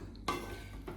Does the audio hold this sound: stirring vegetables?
yes